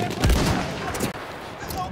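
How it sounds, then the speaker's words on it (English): Enemy machine gun fire in Battlefield 1, a burst of heavy shots up close followed by more rattling fire, mixed with shouted voices. "Feindliches Maschinengewehr!"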